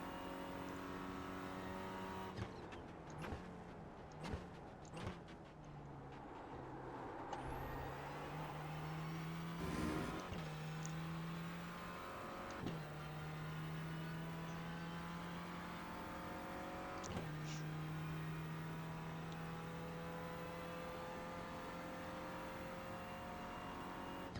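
Simulated Renault Clio race car engine lapping Sebring in iRacing, a steady droning engine with rising and falling revs, gear shifts and a few sharp bumps from curbs, loud and continuous without talk.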